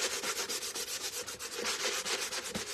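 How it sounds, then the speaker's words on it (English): Rapid back-and-forth scraping of a sanding block over painted metal, steady gritty strokes close up with no voices. "I'm going to take my smooth edge of my sanding block here"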